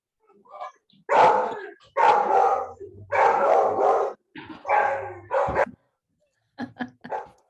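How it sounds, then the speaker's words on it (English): Several dogs bark in a series of loud, close bursts, with a quieter pause and then a few shorter yips near the end. "Just get my dogs barking and we can get them all going."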